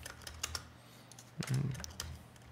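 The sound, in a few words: typing a value on a computer keyboard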